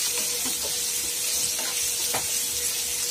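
Onions frying in oil over medium heat while being stirred, a loud, continuous hissing sizzle close by, with soft scraping stir strokes beneath it.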